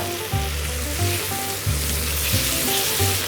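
Duck breast sears in a hot frying pan, a loud steady sizzle punctuated by rhythmic low thumps and clatter as the pan is worked, with no talk.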